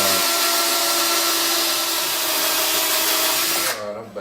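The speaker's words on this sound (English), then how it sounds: "Just simply drill all my holes. I got a cordless hand drill." A cordless drill whines loudly and continuously at high speed, close by, drilling holes in a wooden highchair seat, then winds down abruptly at the end.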